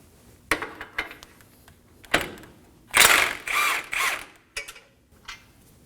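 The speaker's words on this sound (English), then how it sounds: "Go ahead and remove the nut." A ratchet wrench with a 21mm socket loosens the lower strut nut on a Nissan Armada front suspension, giving short clicking bursts followed by longer, louder runs of rapid ratcheting, close up with no talk.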